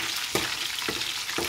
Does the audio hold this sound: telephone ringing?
no